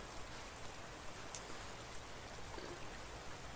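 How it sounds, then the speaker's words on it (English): Light drizzle falls during an outdoor walk in India, a steady, soft, even hiss of rain with no talk. "I think it might be a little bit of a drizzle."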